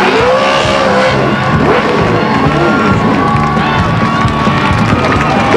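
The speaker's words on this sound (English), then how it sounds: "Laps of action-packed Western late model style racing here at Stockton Speedway" Western late model race cars roar around Stockton Speedway, loud layered engine drone with shifting pitches as cars pass, crowd noise and an announcer-like voice mixed underneath.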